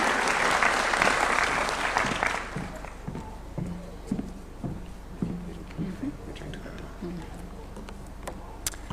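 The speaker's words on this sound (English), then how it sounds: "Let's give her a clap as she's coming, kindly." An audience at a State House youth employment event in Kenya claps to welcome the KEPSA CEO, loud applause at first that fades after a couple of seconds into scattered claps, footsteps and faint murmuring.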